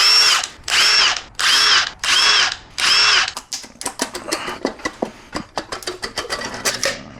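Power tool loosening the head studs on a Subaru WRX STI engine during teardown: five loud, even bursts of whirring at close range, followed by a faster run of rattling clicks and short pulses.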